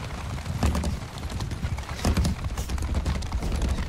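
Dense rumble of many hooves pounding together in a cavalry charge in Mount and Blade II: Bannerlord, with clattering and scattered thuds over a steady roar of battle noise.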